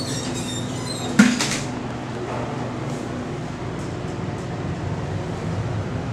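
Old elevator at UMass Amherst's Du Bois Library rattling during a ride, a sharp clunk near the start, then continuous low rumbling and faint clatter throughout.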